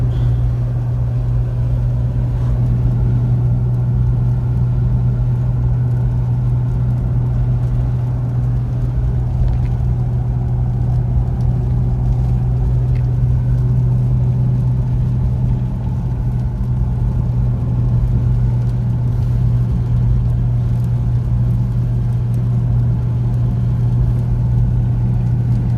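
Heard from inside the cabin, a Nissan Patrol Y60 (GQ) with an RB30 engine cruises on a road, making a steady, loud, low engine drone with road rumble that holds unchanged throughout.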